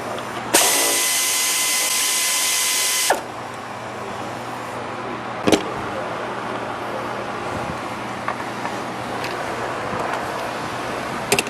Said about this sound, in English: remove the bolt here and the two that are down here on the coolant bottle. These are 8mm